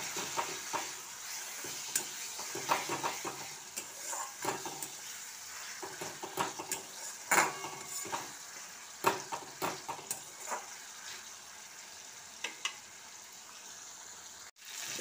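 Chopped onion and tomato fry in a pan, making a soft continuous sizzle broken by frequent scraping stirs and light clinks of a spoon against the metal, close up and with no voices.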